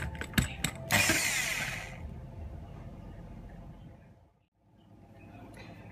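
A power drill bores into a box mod enclosure for a Yihi SX350 build, a few sharp clicks then a whirring bite that fades into a low mechanical hum, briefly dropping out before resuming faintly.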